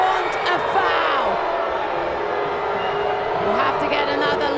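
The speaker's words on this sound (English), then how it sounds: "You can hear the crowd. They want a foul." Football crowd at a Spokane Zephyr FC match calling for a penalty, a sustained loud roar of many voices with whoops and shouts, steady throughout and swelling slightly at the end.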